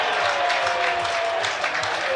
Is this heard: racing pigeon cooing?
no